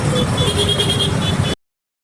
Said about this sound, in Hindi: यही ट्रैफिक में खड़े हैं।